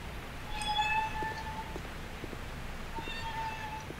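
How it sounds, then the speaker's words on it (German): A video game cat meows a few times, thin and drawn out, faint against a quiet background, with two calls early and another near the end. "Das klingt wie eine Katze, oder?"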